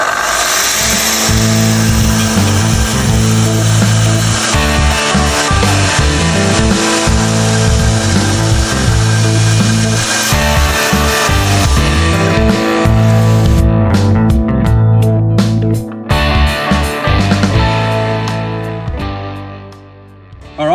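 A Festool plunge-cut circular saw with a dust extractor attached cuts through wood. Its motor runs as a loud, steady, close whine for about sixteen seconds, then winds down and fades.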